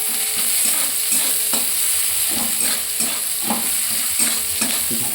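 Onions fry in hot oil with cinnamon and bay leaf, giving a continuous loud sizzle. Regular scraping strokes of stirring repeat through it, and no one speaks.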